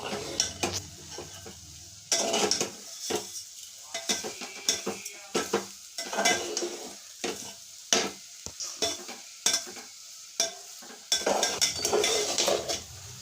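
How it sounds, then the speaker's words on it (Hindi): Semolina halwa with sugar is stirred in a pan, a rhythmic run of close scraping strokes with spoon clinks over a low sizzle, pausing briefly between strokes. "इसमें चीनी डाल के अच्छे से चलाइए"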